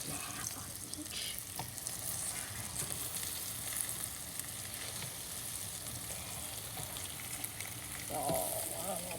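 Green tomato slices fry in a hot pan with a constant close sizzle and crackle, plus brief stirring or flipping noises near the end.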